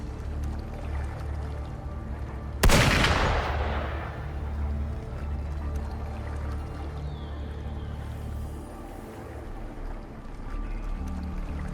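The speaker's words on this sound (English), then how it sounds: "Gunfire!" A single loud gunshot blast rings out in the Wuthering Waves video game, its sharp crack decaying into a lingering tail over a steady low ambient rumble.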